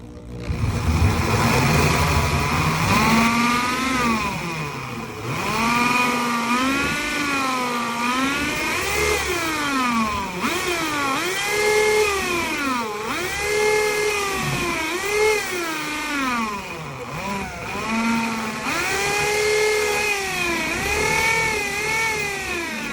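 A power drill bores a hole through a closet door, its motor whining and rising and falling in pitch as it speeds up and slows under load, loud and continuous throughout.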